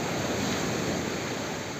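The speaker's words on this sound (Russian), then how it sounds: "Море сегодня, волна чуть побольше" Sea waves on a beach with slightly bigger surf than usual, a continuous loud wash of breaking water and wind noise, steady throughout with no talking.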